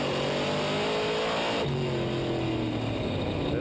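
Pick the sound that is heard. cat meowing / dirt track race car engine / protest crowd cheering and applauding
dirt track race car engine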